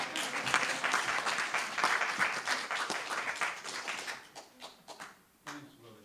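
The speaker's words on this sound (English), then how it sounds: "would you give a clap to my friend Tom because he needs it" Audience applause from an indoor crowd at a presentation event, dense steady clapping that thins out into a few scattered claps toward the end.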